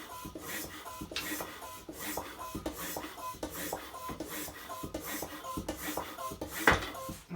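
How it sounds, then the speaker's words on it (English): A hand bicycle pump inflates a tyre with rhythmic strokes, about one every second, each a short rasping hiss and clack, close by and fairly quiet. "we're going to just pump this up to what it says on the side"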